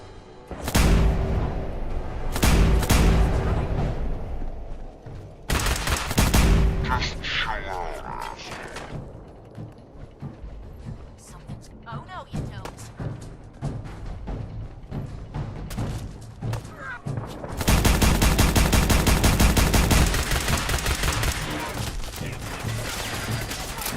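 Gunfire from the companion Kate in Fallout 4, coming in loud, broad bursts separated by quieter stretches. A long sustained volley closes out the passage.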